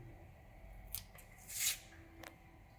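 Scissors snip through a Hydrophila corymbosa aquarium plant stem, giving a few quiet, crisp cuts with one slightly louder snip in the middle, close by against a soft background hiss.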